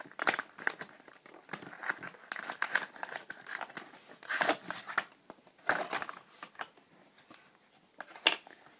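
Crinkly plastic or paper packaging crumpled and torn open in close, irregular bursts of rustling and tearing, with no talking.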